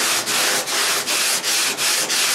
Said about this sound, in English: When you're doing body filler, you also want to sand against the grain